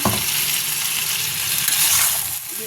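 Chunks of mutton and potatoes sizzle and fry steadily in a hot pan while being stirred, a dense, continuous hiss with faint scraping, close and loud, with no voices.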